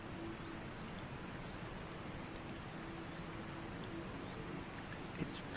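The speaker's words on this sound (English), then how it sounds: "You can hear the waterfall now. And it's like splish splashing in here too." Water from a waterfall in a video game rushes as a steady, soft wash, with light splashing mixed in and a few faint clicks near the end.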